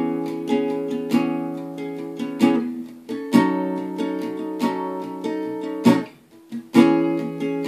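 Strummed guitar chords from a line of a song, played in a lesson, with rhythmic strums ringing out over about eight seconds, alone and close.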